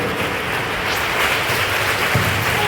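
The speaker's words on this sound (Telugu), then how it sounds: "గట్టిగా చప్పట్లు కొడుతూ దేవుని మహిమపరుద్దాం" A church congregation claps loudly and continuously during worship, a dense, steady wash of many hands close by with no clear pauses.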